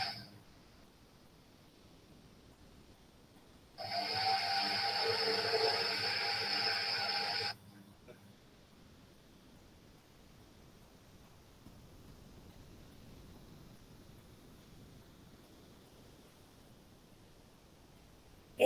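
A steady rush of blown air starts abruptly, runs for about four seconds, then cuts off, leaving quiet room noise.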